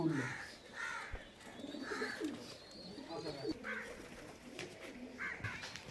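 Kalshira and Rajasthani pigeons coo in a loft, with repeated soft, throaty coos and a few wing or bird calls close by, and human voices faintly mixed in.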